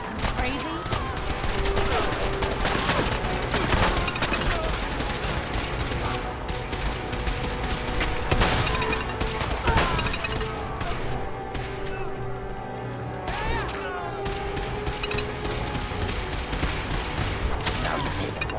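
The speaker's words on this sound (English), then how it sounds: "Oh, it's a 4-barrel shotgun." Four-barrel shotgun blasts in Fallout 4 crack out in a dense, chaotic stretch of repeated heavy shots, loud and close, mixed with crashes and impacts throughout.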